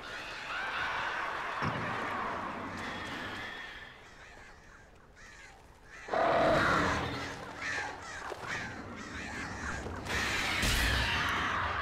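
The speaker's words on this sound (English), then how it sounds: "Goddamn birds were waiting for me." Crows caw in Alan Wake, harsh repeated calls from several birds layered over a dense, noisy game ambience that swells and drops, fairly close and continuous.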